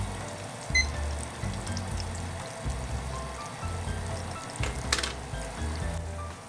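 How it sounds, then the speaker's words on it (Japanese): Chicken pieces deep-frying in oil kept below 130 degrees for fried chicken, a steady dense bubbling sizzle with a few brief clinks, close and continuous without talk. "この温度をキープして5分間揚げていきます。"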